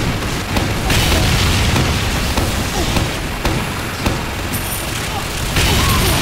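Stickybomb explosions in Team Fortress 2 Mann vs. Machine boom repeatedly in a dense, loud barrage of blasts and pops over continuous battle noise.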